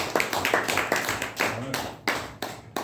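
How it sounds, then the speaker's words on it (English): A small meeting audience gives Toastmaster Habib a brief round of sharp, scattered claps, heard close, with a faint voice underneath. "Can we clap for Toastmaster Habib?"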